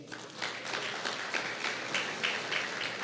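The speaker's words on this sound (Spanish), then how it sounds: "Denle un fuerte aplauso al Señor." Church congregation applauding during a sermon, a steady, full wash of many hands clapping for about three seconds at moderate distance.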